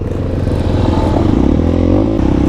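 An MPX 250cc two-stroke motorcycle engine revs loud and close, with a raspy, rattling buzz that climbs in pitch and then drops off near the end.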